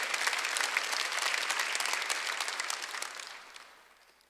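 A congregation at a Sunday church service claps together in a brief burst of applause that stays fairly quiet and even before fading out over the last second.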